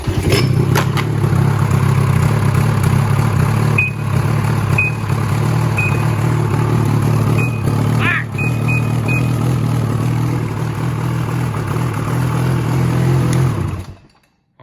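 A Ski-Doo 800 E-TEC snowmobile engine idles and revs steadily close by, bogging off idle, with a few short high electronic beeps sounding over the motor before it cuts off.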